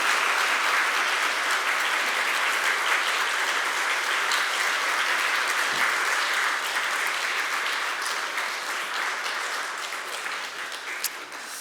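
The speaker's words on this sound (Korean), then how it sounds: "우리 박수 한번 많이 반영해 주시면 좋겠습니다" A church congregation applauds during a Sunday service, the even, dense clapping continuing steadily for the whole stretch and easing slightly toward the end.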